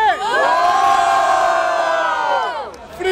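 Crowd at a rap battle in Barueri, São Paulo, erupts in loud, sustained cheering and whooping lasting nearly three seconds, then fades briefly before rising again, with no speech over it.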